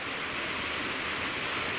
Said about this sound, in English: kind of magnificent amount of water flowing over this unique area, one of the few remaining waterfalls in Fort Worth